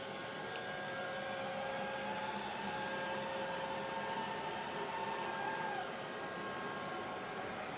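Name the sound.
Neato D85 robot vacuum cleaner vacuuming carpet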